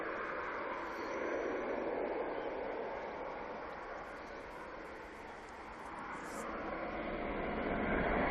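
A Cessna Citation Latitude business jet arriving at Manchester Airport from Biggin Hill gives a fairly quiet, distant, continuous jet rush that dips slightly midway and then swells again toward the end.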